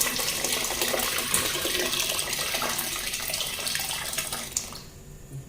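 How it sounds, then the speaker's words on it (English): Hot water poured from a kettle into a pot of rice for fried rice, a steady close splashing gush that runs continuously and then cuts off near the end. "So I'm going to be adding hot water."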